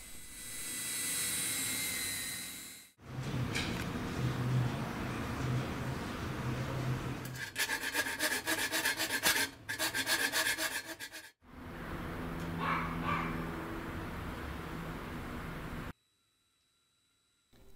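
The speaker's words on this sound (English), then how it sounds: "we remove the remaining metal by hand" Metal is removed by hand from the casing of a Digital Compact Cassette recorder being fitted with an optical output, heard as sustained close rasping and rubbing strokes in several passes broken by short pauses.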